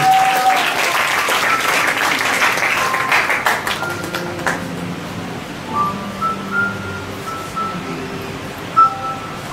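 A church congregation at a Sunday worship service bursts into loud, sustained applause and cheering to acclaim the Lord, the clapping strongest at the start and thinning out, with scattered voices and brief tones afterward.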